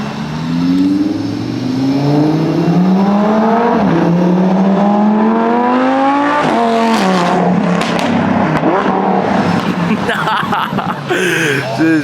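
A sports car at an exotic car meet revs loudly and accelerates past close by, engine pitch climbing and shifting steadily over a continuous roar, with people's voices partly heard over it.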